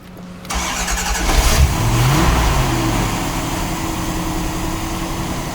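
A 1990 Corvette ZR1 with its hood open cranks briefly, then catches and roars up to a high idle. The engine runs on steadily and loudly, close by.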